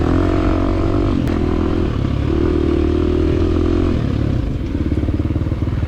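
A 2023 KTM 350 dirt bike racing a scramble section at Lake Sugar Tree, its engine droning loud and close with rising and falling revs, gear changes and rattling clatter over rough ground.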